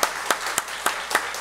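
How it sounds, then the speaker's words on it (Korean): A church congregation applauds during a Sunday morning service at a Korean church, many hands clapping together in a steady, even rhythm close by, with no talking. "박수 한번 드리세요"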